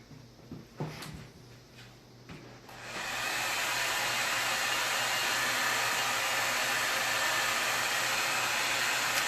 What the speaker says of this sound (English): I'm going to throw the blow dryer on that real quick.